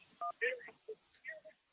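A telephone line connects on a sports radio call-in show with a short burst of dialing-style electronic tones, mixed with brief voice fragments, all fairly quiet.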